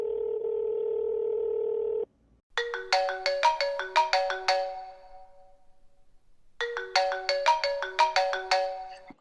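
A phone ringtone plays two bursts of bright, repeating melodic chimes, separated by a short pause, preceded by a steady electronic tone.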